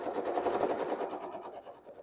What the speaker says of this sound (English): I'm going to stitch to the other end and try to stop right on that corner.